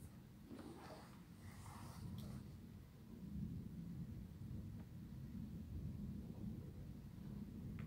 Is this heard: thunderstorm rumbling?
yes